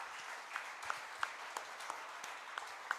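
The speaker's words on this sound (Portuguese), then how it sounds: "Você pode aplaudir ao nosso Senhor," Scattered applause from a church congregation, faint and distant, with a few sharper individual claps standing out.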